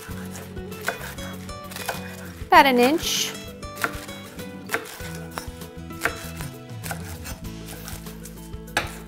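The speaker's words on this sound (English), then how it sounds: "we're just going to fold one half over the other half and slice right through them" A knife slices crisply through folded leafy greens on a cutting board, a few close chopping strokes with a brief scraping rasp, set against steady background music while a person speaks briefly.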